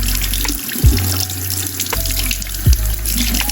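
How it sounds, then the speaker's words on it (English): Cold water runs steadily from a tap into a sink as a doll's hair is rinsed, a continuous close splash with a couple of brief louder gurgles. "I'm going to turn on the cold water."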